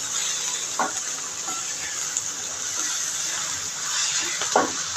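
Cowpea leaves tossed onto softened fried onion in a pan, giving a steady close sizzle with a few brief scraping stirs of a spoon against the pan.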